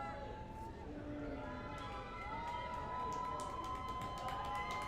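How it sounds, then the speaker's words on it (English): A light crowd at a minor league baseball game, Long Island Ducks at Sugar Land Skeeters, in the top of the 8th inning, makes a steady, moderately loud murmur with scattered shouts and cheers throughout. "the light crowd on hand here trying to make some noise in this top of the 8th inning"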